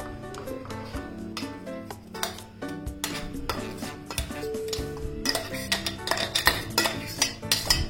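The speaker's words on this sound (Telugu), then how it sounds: "ఇప్పుడు ముందుగా మిక్సీ పట్టుకున్న పౌడర్ని వేసి బాగా కలపాలి." Spoon clinking and scraping against a bowl as ground multigrain powder is mixed, with repeated close stirring strokes over a steady tonal background.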